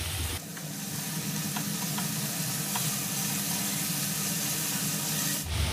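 Tomatoes and spices sizzle steadily in a hot pan for a chickpea choley masala, a dense continuous frying hiss with a few faint scrapes of stirring and no voices.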